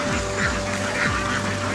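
Ducks on a rice farm quack and honk repeatedly in a dense, moderately loud chorus over a steady tonal background.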